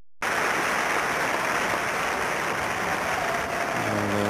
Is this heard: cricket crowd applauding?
yes